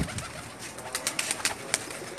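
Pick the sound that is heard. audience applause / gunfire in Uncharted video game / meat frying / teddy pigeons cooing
teddy pigeons cooing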